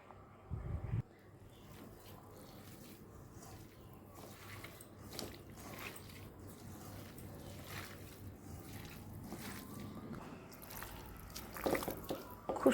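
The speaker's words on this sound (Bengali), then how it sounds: "আমি এই সমস্ত মশলার ভিতরে মোচাটা আলুটা খুব ভালো করে মেখে নেব" Banana flower and potato are kneaded by hand with spices, making faint, close, wet squelching and soft sticky squishes in an irregular rhythm, quiet throughout.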